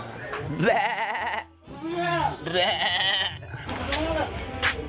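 Goats bleat in wavering, drawn-out cries, several calls close together with a brief pause, loud and near.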